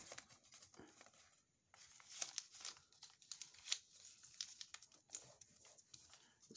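Paper being folded into a small diamond packet, with soft crinkling and rustling in irregular bursts close by, fairly quiet throughout and with no talking.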